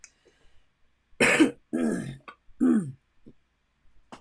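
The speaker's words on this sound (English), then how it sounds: "Every time I cough" Three harsh, close coughs in quick succession, then quiet with a few faint small sounds.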